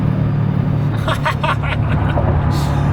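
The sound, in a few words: vehicle accelerating at three-quarter throttle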